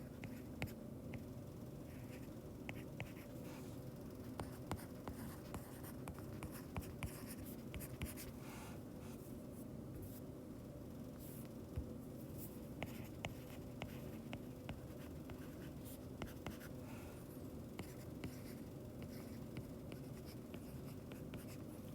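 Marker or pen writing out numbers for a tilted-axis physics problem, a continuous soft scratching and squeaking with frequent small taps, steady and close with no voices.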